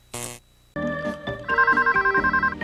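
A computer video phone in a 1997 commercial rings with a repeated electronic trill, pulsing steadily after a brief burst of sound and a short pause.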